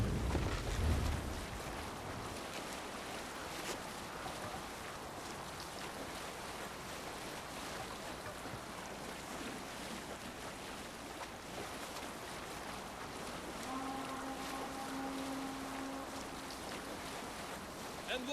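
A sailing ship at sea in Assassin's Creed Valhalla, with steady wind and water rushing around the hull, a continuous surf-like wash that stays even throughout.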